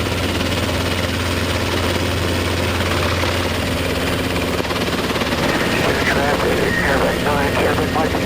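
Robinson R22 helicopter taxiing forward during a training flight, its engine and rotor making a loud, constant drone heard from inside the cockpit, with a voice speaking over the noise toward the end.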